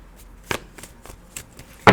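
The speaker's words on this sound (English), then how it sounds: "I am just shuffling, trying to get the cards ready." Tarot cards are shuffled in a few quick, crisp riffling bursts spaced apart, close and fairly soft, with a sharper, louder burst at the end and no talking.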